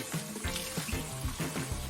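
Running tap water rinses soap out of a washcloth, a soft, steady hiss broken by repeated small splashes and squelches as the cloth is worked under the stream, quiet and close.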